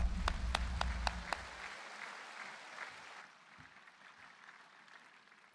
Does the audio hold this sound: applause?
yes